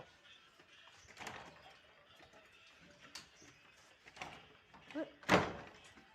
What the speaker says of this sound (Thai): ปิดประตูบ้าน